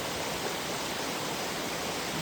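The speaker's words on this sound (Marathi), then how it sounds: "मी आता जरा नदी क्रॉस करतो थोडीशी" Steady broadband rush of river water flowing close by as someone wades across, continuous and fairly loud with no voices.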